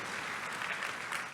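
A congregation at a church youth revival service applauds, a dense burst of clapping heard from nearby that holds steady for over a second with no speech.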